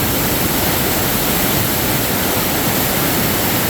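Loud, steady roar of water rushing into a canal lock through a quickly opened gate, a thick unbroken churning noise with no talk.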